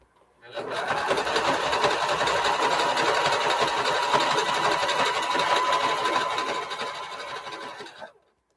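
A sewing machine stitches coiled rope over fabric to form a basket, running in one steady, close, continuous whir for about seven seconds before stopping.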